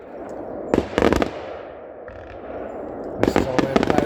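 Fireworks burst at a Fourth of July show in Washington, Maine, with loud clustered bangs and crackle in three bursts over a steady outdoor rumble of crowd noise.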